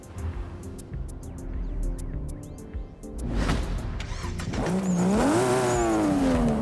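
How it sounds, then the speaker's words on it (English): A turbocharged rear-wheel-drive drift car in Forza Horizon 5 revs up from a rumbling idle to a loud, climbing engine whine, with turbo chatter and short clicks in the first half. "Oh, listen to those turbos."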